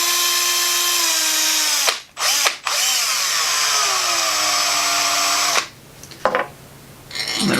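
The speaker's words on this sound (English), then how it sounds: "just slowly run that drill in reverse" A power drill runs in reverse to back a cork rod grip out of a clamp, a loud steady whine that dips and restarts twice, then stutters and stops near the end.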